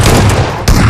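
Loud, close video game gunfire in a battle royale match, with a dense roar of shots and a sharp fresh blast near the end, and no talking.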